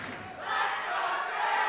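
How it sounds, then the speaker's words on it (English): A high school girls' varsity volleyball crowd from Salem swells into loud, sustained cheering and shouting in a gym, building in the first half-second and then holding steady. "now the Salem crowd back into it"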